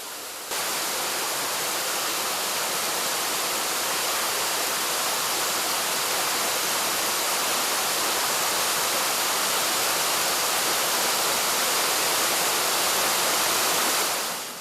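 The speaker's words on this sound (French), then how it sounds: "L'eau si abondante que vous pouvez observer provient d'une source très protégée." Abundant spring-fed stream water pouring steadily over small cascades, a dense continuous rushing roar at close range with no voices.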